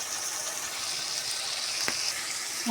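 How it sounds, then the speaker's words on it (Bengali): Spice masala fries in a pan with a soft, even hiss that holds steady throughout, with one brief tap near the end. "মশলাটা ভালো করে কষিয়ে নিব।"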